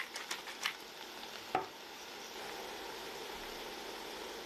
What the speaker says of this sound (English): Once you've given it a good stir,